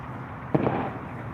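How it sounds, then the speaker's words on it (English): Firecrackers popping at a celebration: a single sharp crack followed by a quick second pop, faint against steady background noise. "They popping firecrackers."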